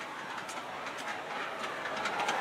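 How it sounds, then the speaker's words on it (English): A continuous rattling rumble of a USAT GE 44-tonner model train rolling over a bridge, steady and fairly close, with faint high clicks and no voices. "There's the train going over the bridge."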